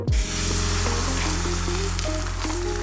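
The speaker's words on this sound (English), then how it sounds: "Turn the fire to a low heat, add the butter when you see it shimmering." Butter sizzling and frying in a hot oiled pan over low heat, ready for Taiwanese egg pancakes; a steady, loud, continuous crackle close by with no talking.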